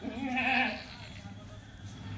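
A single short bleat from a Kathiawari goat close by, fading after a moment into quiet background noise.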